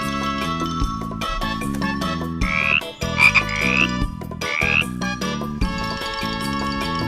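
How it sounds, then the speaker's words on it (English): Loud, close frog croaking in rhythmic repeated bursts, with several rising chirping calls layered over a continuous pulsing croak chorus. "Frog."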